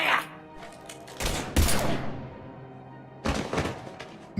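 Weapon fire in the video game Mass Effect 3, several loud, close bursts of thudding shots in clusters separated by quieter gaps, with faint game sounds between.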